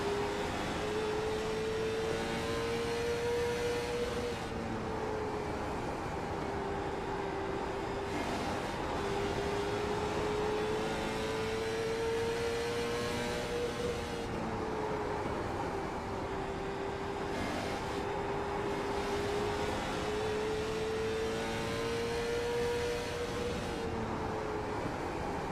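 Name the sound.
onboard race car engine and throttle in sim racing game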